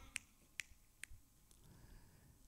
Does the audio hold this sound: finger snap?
yes